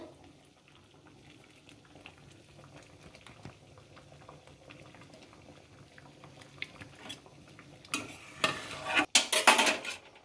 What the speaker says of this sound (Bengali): ডালটা ফুটে গেছে, আমি ডিমটা দিয়ে দেবো।